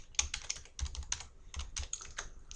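Someone types PHP code on a computer keyboard in quick, uneven bursts of close, crisp clicks and clacks, with no talking.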